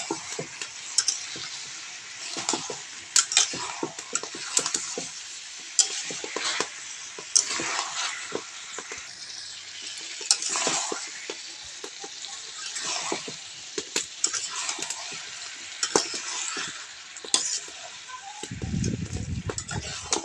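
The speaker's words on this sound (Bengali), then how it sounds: "ভেজে রাখা আলুগুলো দিয়ে আরও কিছুক্ষণ কষিয়ে নেব।" Chicken and fried potatoes stir-fried together in a pan, a steady sizzle broken by frequent scraping, clinking strokes of a spatula at an irregular rhythm, close and fairly quiet.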